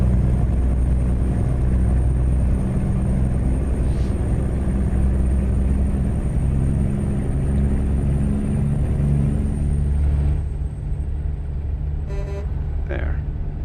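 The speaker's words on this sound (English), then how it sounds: "truck take off and you hear that whistling sound." In a modded truck driving video game, a high turbo whistle rises and holds above the low rumbling engine as the big rig accelerates. Near the end it fades and a brief horn-like toot follows.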